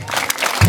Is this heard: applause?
yes